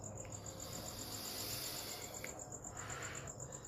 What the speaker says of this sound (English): I don't actually hear the cricket until you mention it